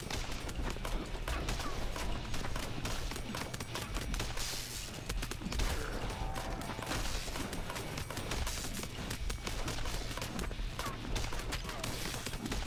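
Rapid gun turret fire in the video game Earn to Die Rogue, a dense continuous volley of shots running throughout over game noise, with no talk.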